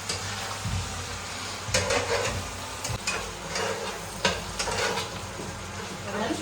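Chicken curry with coriander leaves is stirred in a pan: a spatula scrapes and taps against the metal over a soft, continuous sizzle, with irregular clinks throughout.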